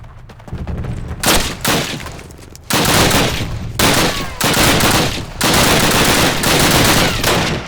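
Loud, close bursts of sustained automatic fire in Call of Duty, repeated long volleys separated by brief pauses, dense and continuous with no talk over them.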